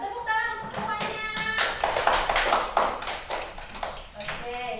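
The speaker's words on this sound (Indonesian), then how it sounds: "Tepuk tangan untuk semuanya." Children clapping in a classroom, a loose burst of uneven handclaps close by, mixed with voices and a few bright tapping sounds.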